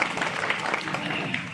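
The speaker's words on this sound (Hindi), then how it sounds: "जोरदार ताली हो।" Brief applause from people at a Republic Day school gathering, a short burst of mixed clapping at moderate level with no talk over it.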